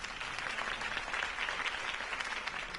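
A crowd applauding in a Batman video game, a continuous, hissy wash of clapping that holds steady throughout, sounding slightly processed and distant.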